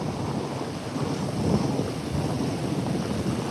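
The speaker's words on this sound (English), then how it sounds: "Probably gonna be a big little wave coming here in a second." Ocean surf at a Texas beach, a steady broad wash of waves with wind buffeting the microphone, swelling slightly midway through the few seconds with no voices.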